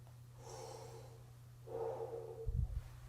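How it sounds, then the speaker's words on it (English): Slow, controlled breaths drawn in and let out before a trombone player starts a slow, soft piece in a warm-up, heard close and quiet over a low steady hum. "this is what I mean by controlled breathing"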